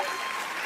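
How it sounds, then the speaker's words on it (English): Audience applause fills the room in a steady, dense wash of clapping, loud and continuous, with faint crowd murmur underneath. "Lagyan natin ng applause."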